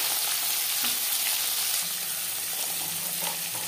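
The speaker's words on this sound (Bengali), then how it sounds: "15-20 সেকেন্ড ভেজে নেওয়ার পর দিয়ে দেবো গাজর" Black mustard seeds and carrots frying in hot mustard oil give a steady, close sizzle and crackle that runs unbroken throughout, with no talking.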